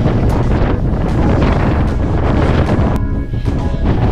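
Heavy 64 mph wind on Higher Shelf Stones in the Peak District roars and buffets the microphone without letup, a dense rumbling gust noise with no voices.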